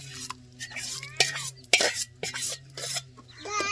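A spoon stirs cooked dal in a metal pot for wedding-style sambar, giving wet sloshing strokes and sharp clinks against the rim in irregular bursts, close by with quiet gaps between.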